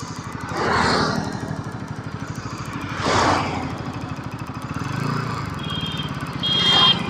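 A Bajaj Pulsar NS200 BS7 motorcycle exhaust while riding, a steady mid-pitched engine thrum with several swells as the throttle rises and falls, close and clear with no talk.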